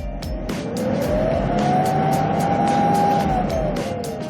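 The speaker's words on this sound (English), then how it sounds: "The RPMs go up very smoothly." A Hyundai Porter Super Cargo truck engine revs up smoothly and evenly, the pitch climbing and then falling back over a few seconds, heard loud and close with sharp intermittent ticks above it.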